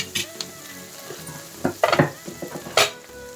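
Onions fry in a pan while cooking egg dum biryani, with soft sizzling under several sharp scrapes and clinks of a spoon stirring against the pan, close and intermittent.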